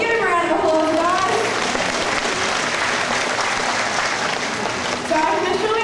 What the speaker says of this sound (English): give him a round of applause, guys.